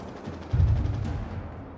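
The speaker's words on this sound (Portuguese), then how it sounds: "Opa, tiro." Gunshots in a GTA roleplay shootout crack in a quick cluster of sharp reports over low rumbling game ambience, moderately loud and without talk.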